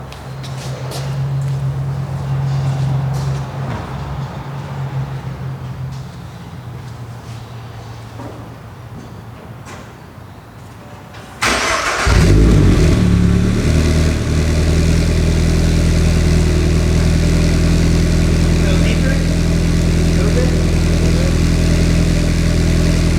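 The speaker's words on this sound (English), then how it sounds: "we're gonna give it the first startup with the Berk front pipe installed" A Toyota GR86 engine cranks and catches, then settles into a loud, deep, throaty rumble from a Greddy Supreme SP exhaust with Berk front pipe, steady and close after a quieter stretch of background noise.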